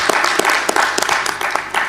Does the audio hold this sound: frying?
no